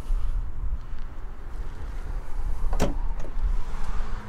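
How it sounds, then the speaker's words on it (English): A 2022 Ram 1500 pickup unlocks with a single sharp mechanical clunk from the door locks, with a softer click just after, against a steady outdoor wind rumble. "Let me go ahead and unlock the truck first"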